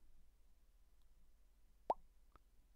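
A single sharp mouth pop, used to release a voice-controlled mouse drag, sounds close and brief against near silence, followed by a fainter click.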